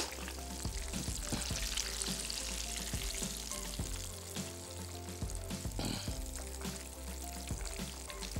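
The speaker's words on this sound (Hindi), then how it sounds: "चिकन के पीसेस कंप्लीटली गोल्डन फ्राई हो चुके हैं" Chicken pieces fry golden in hot oil, a continuous crackling sizzle close by with occasional pops and stirring scrapes, no voices over it.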